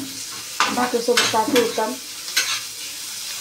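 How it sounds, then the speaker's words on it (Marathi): Onions frying in a pan for tomato bharta, a low sizzle with a few stirring scrapes, as someone speaks briefly over the cooking. "तर कांदा आपण चांगला गुलाबी होऊन देऊ।"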